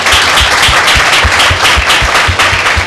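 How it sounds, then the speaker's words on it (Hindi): A church congregation at a Tuesday healing prayer meeting claps together in a loud, steady, rhythmic burst that runs through the whole stretch with no talk over it. "आपने ताली बजाई, इसका मतलब आप मेरी बात से सहमत हैं।"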